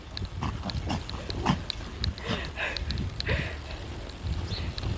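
A small dog snuffles and sniffs during an outdoor greeting on a bike ride. The sniffs come as quick, repeated snorts over steady wind and rustling, with no talking.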